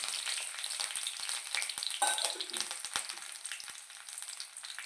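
Cumin seeds, dried red chillies and curry leaves frying in hot oil with garlic, a steady close sizzle and crackle with occasional stirring.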